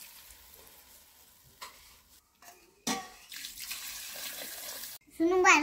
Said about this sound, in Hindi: इसके बाद इसमें फिर झोर देंगे। तो पनिया डाल रही है